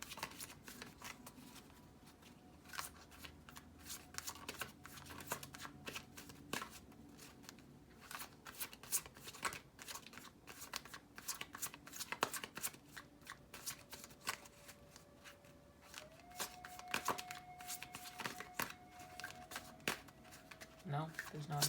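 Dark Mirror Oracle cards riffled and shuffled in repeated soft bursts of papery flicking, steady and close, with a faint background tone running underneath and no talk.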